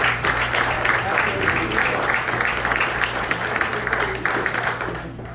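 Steady applause from an audience at a comedy roast, a dense wash of clapping holding at an even level for several seconds before easing slightly.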